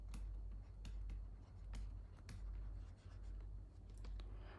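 A pen scratches out handwritten notes on paper in short, irregular strokes, close and faint against a soft background hum, with no voices.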